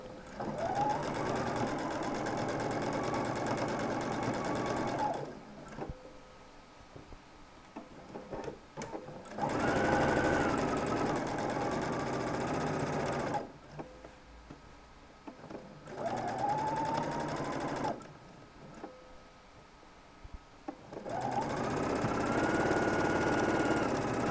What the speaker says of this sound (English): I'm going to top stitch that fold down, again on the right side of the shirt, using my sewing machine foot as a guide